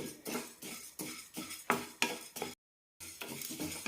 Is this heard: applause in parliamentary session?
no